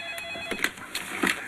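A telephone rings indoors in a scene from the sitcom Clueless, with short repeated electronic ring bursts that are fairly close and clear, and no talk over them.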